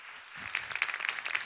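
A short burst of audience applause at a televised Turkish folk music show, faint and distant, a dense patter of clapping rising after a quiet start.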